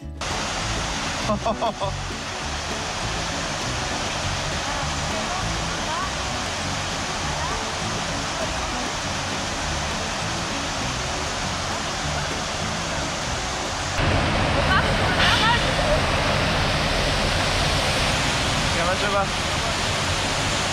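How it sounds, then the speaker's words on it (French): Waterfall beside a small hydroelectric dam in the Pankisi Valley, Georgia, a steady, loud, broadband rush of falling water that grows stronger and closer partway through, with a brief knock early on. "un petit barrage hydroélectrique menant à une magnifique cascade"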